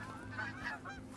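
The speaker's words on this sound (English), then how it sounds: "Got a level 5 goose that probably just landed." A goose honks in theHunter: Call of the Wild, a couple of short nasal calls close together, moderately clear over a low steady background.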